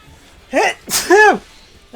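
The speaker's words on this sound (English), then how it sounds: "Have a sneeze." A single close, loud sneeze with a sharp intake of breath and a burst of voice, preceded by a short vocal sound.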